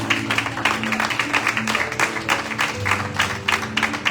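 A church congregation breaks into sustained applause for the Lord, dense steady clapping from many hands with music tones underneath and no clear talk.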